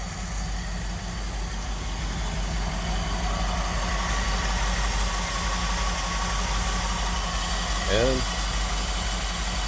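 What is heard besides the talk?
1958 Dodge Power Wagon W200 truck engine idling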